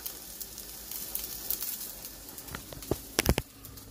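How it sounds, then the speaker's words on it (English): Potatoes sizzle and crackle in hot frying oil, a soft steady hiss broken by scattered pops that grow sharper and louder near the end, with no voices. "Yeah, look at these potatoes sizzling."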